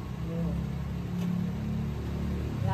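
The stock engine of a 10-seater van runs steadily with its hood open, a low, even hum held close throughout while voices murmur faintly nearby.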